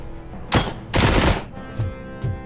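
Gunfire from a weapon in the video game RoboCop Rogue City: two loud, close bursts of rapid shots, followed by a couple of fainter single reports, with no talking.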